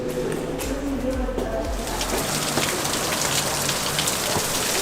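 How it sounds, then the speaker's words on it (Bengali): Rain falls near Staubbach Falls in Switzerland, a steady close patter of drops on surfaces that grows denser after the first couple of seconds, with a low rumble early on and no clear talk. "এখন একটু বৃষ্টি পড়তেছে"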